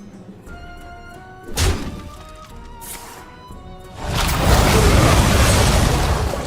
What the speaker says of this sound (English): There's a corpse explosion.